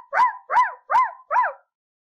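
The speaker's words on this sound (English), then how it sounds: "You might have just heard my puppy." A puppy howls and yips in four rising, wavering calls, each about a third of a second long with short gaps between them, close and clear with no other sound.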